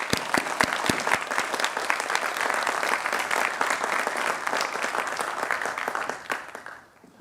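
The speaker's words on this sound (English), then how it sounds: "a big round of applause" A crowd applauds steadily for several seconds at a valedictory ceremony, the clapping full and close, then tapers off and fades out at the end.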